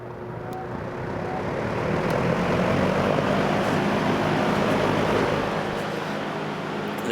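A 1971 Lakewood box fan, model P-23 with a Macmillan motor, runs on high speed, making a loud, steady broadband whoosh of moving air with a low motor hum underneath.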